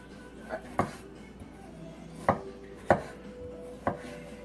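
A knife chops through fresh ginger on a cutting board, four or five sharp, separate knocks spaced unevenly a second or so apart, close and clear over a quiet kitchen background.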